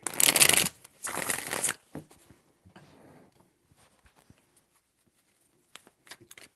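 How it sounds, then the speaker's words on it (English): Tarot cards being shuffled by hand in two loud, close riffling bursts, followed by a shorter third burst and then scattered soft taps and card handling sounds, with no voices. "3 shuffles."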